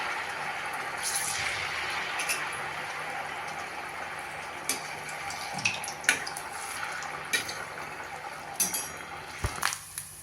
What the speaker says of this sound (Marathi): आता त्यामध्ये वडे सोडून गोल्डन कलरवर आपल्याला ते तळून घ्यायचे गॅसची फ्लेम अगदी बारीक केलेली आहे